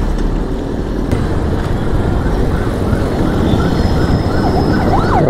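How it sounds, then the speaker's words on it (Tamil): An ambulance siren passes on a hill road in Kolli Hills, heard from a moving motorbike. Its warbling wail rises out of heavy wind and engine rumble, growing clearer toward the end. "ஆம்புலன்ஸ் போகுது."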